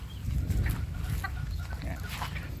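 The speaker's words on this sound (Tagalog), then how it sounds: "Ito naman yung isa pang breeder na bulik." Bulik gamecock breeder rooster clucking in short bursts over a steady low farmyard rumble, fairly close, with other fowl faintly in the background.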